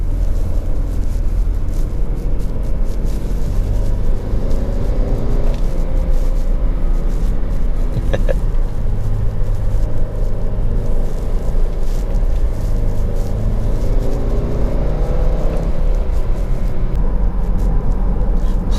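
2017 Subaru Forester XT Touring with a turbocharged engine, heard from inside while driving: a steady loud low rumble of engine and road noise with rising and falling revs, no voices.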